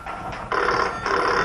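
An old-style telephone bell rings indoors in two clear bursts with a short gap between them, steady and fairly loud, and no one speaks over it.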